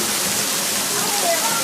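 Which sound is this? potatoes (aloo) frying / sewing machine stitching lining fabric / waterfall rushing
waterfall rushing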